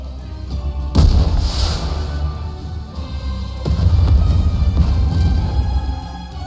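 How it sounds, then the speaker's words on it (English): A rocket launcher shell exploding over a snowfield in the NIKKE video game, two loud booming blasts several seconds apart, each followed by a sustained rumbling roar, with no talk. "a shell flies from the rocket launcher. And a resounding explosion causes the entire snowfield to be blanketed in thick plumes of white smoke"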